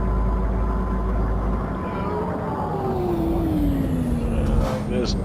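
A heavy truck in the game Euro Truck Simulator 2 rumbles along hauling logs, then air brakes hiss as it slows, with someone talking over the engine noise.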